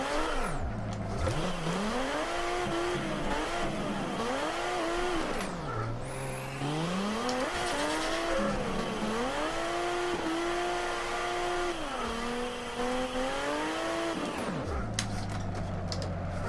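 Nissan Skyline R32 engine in the Assetto Corsa racing game, drifting at Meihan Circuit: a loud, continuous engine note rising and falling with throttle blips and gear changes, with brief dips and tire noise, alone without talk.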